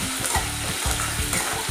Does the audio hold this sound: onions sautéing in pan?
yes